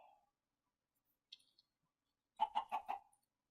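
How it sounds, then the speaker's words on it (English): Chickens in the video game Minecraft, a short burst of rapid clucks after a brief isolated cluck, quiet and alone against silence. "We have got ourselves a right little chicken family over here."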